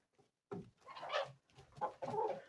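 Several bursts of chicken clucking close by, broken by short pauses, with busy overlapping calls from a small flock of about 22 hens and 16 roosters.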